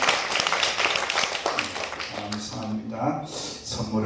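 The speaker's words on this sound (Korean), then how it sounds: "앉으셔서 한번 축복의 박수 하겠습니다" A seated congregation in a Korean church gives a warm round of blessing applause during a Pentecost Sunday worship service. Dense clapping fills the first half, then thins out as a voice begins speaking over it.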